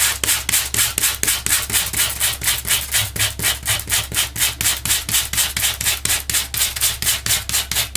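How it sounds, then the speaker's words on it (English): Sandpaper rubbed over cardstock laid on a dotted Lego baseplate, a steady fast rhythm of close scratchy strokes repeating evenly without pause and with no voices. "I just put my cardstock over that and sanded away"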